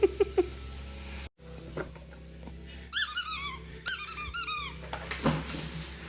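A dog squeaking a plush toy, with bursts of sharp, high repeated squeaks in quick clusters, close and clear, plus some light patter and faint background noise.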